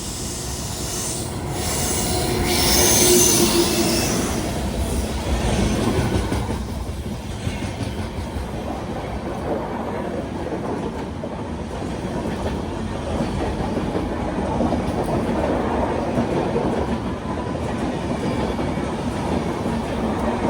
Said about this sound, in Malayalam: കൊല്ലം തിരുപ്പതി എക്സ്പ്രസ് ഇതാ കടന്നു വരികയാണ്